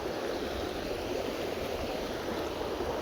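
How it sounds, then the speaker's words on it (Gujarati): Rainwater rushes down from the hills in heavy rain, a steady, loud, broadband roar of flowing water with no pauses, and no talking. "પાણી જાણે દરિયામાંથી આવતું હોય ને એવું લાગે ફૂલ"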